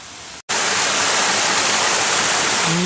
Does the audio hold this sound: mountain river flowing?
yes